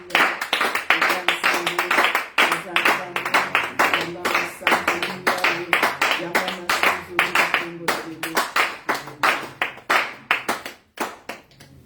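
A church congregation claps in acclamation during worship, a dense, loud, steady rhythmic run of many hands clapping together throughout, with voices singing or calling out underneath.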